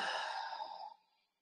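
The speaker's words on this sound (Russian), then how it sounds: "Шумный вариант дыхания уджайи." A single noisy ujjayi exhale during a yoga breathing practice, a breathy, throat-constricted hiss that starts strong and fades out over about a second, close and clear with no talking.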